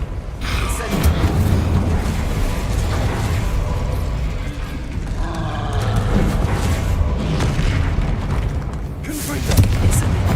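In Hogwarts Legacy, the Incendio fire spell goes off as repeated heavy whooshing booms mixed with other spell blasts, loud and rumbling, with a voice speaking among the bursts.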